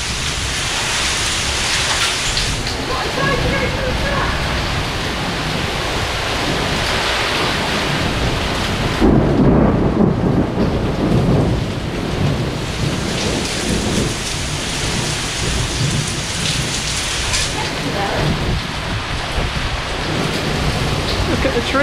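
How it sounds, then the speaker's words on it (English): Heavy Orlando storm with golf-ball-sized hail and thunder, a loud continuous roar of hail and rain pounding surfaces close by, swelling into a stronger burst midway, with a voice exclaiming over it. "It's hail. It's hail. Oh my God, it's hail like golf ball size."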